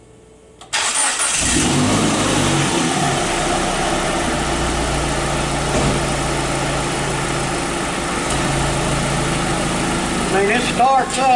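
A Dodge Neon's engine cranks and catches, then settles into a steady loud idle with some revving, close by, and a voice speaks briefly near the end.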